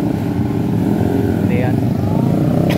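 A motorcycle engine idles loudly and steadily nearby, a constant low throbbing drone, with people talking over it.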